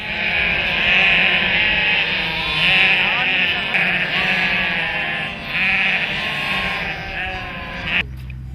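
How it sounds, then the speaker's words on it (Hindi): A flock of sheep on the Tibetan plateau near Lake Mansarovar, many close bleats overlapping continuously, loud and busy throughout, then cut off abruptly near the end. "रास्ते में दिखने वाला भेड़ का झुंड काफी मनमोहक होता है।"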